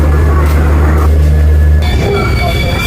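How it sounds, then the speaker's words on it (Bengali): Loud rumble of the Shalimar–Puri express train pulling into Khurda station, with a low droning hum and a high whine rising toward the end, close by. "ট্রেন ঢুকলো এখন খুড়দা স্টেশন"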